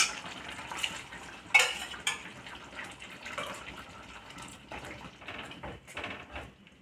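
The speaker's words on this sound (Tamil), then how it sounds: "இந்த மைசூர் பருப்பையும் இதில் விட்டுடலாம்." Cooked Mysore dal goes into a pot of karamani and ponnanganni keerai kuzhambu, with soft clinks of a metal spoon and vessel and some liquid stirring, close and moderately quiet, with no talk over it.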